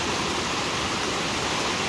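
A river swollen after rain rushes near a house, a loud, steady broadband roar of flowing water with no breaks.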